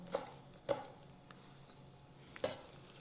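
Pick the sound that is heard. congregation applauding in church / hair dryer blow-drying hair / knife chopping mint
knife chopping mint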